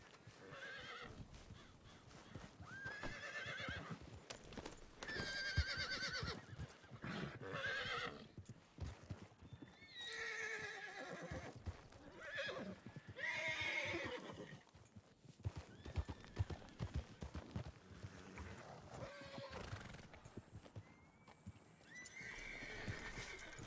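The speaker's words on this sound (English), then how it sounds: "Let's clear these fucking horses." Several horses clip-clopping and neighing, with repeated whinnies and snorts over steady hoof clatter, fairly close, across a long stretch with no talk.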